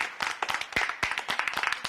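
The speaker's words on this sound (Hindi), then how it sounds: "इन लोगों के लिए ताली बजानी पड़ेगी" A small group of people clapping at close range, with distinct uneven hand claps in a brisk, irregular rhythm that stays fairly quiet throughout.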